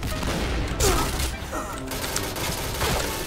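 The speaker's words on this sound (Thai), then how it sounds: "แบบเขายิงหัวกันโป๊ะโป๊ะโป๊ะนะครับ" Pistol gunfire from the online shooter Point Blank, several quick bursty shots and impacts in a busy, dense mix of game noise.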